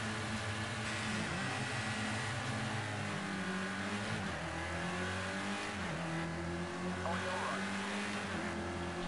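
Touring cars from the racing game Project Cars 2 launching at the start at Zhuhai: several engines revving and shifting up through gears, a dense continuous roar of rising and falling pitches, with someone talking over it.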